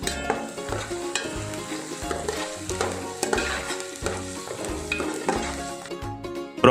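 Chopped onions fry in fairly deep hot oil for chicken keema biryani while being stirred, giving a steady close sizzle with a rhythmic stirring scrape and clinks that repeats throughout.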